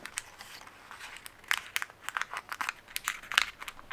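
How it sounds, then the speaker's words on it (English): Paper cupcake liners being folded by hand, giving a string of sharp, irregular crinkles and crackles up close, sparse at first and then quicker and louder, with no talk. "Sorry about the crackling noise if you hear it."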